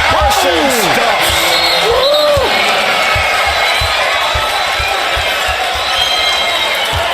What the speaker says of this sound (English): Even the Lakers fans cheering that one.